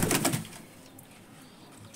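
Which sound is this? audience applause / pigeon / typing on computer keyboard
pigeon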